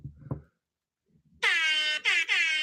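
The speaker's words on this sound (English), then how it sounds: "Let me turn up louder. You got the air horn." A loud, sustained air horn blasts in three bursts, the first long and the next two shorter, after a brief low thump and a pause of near silence.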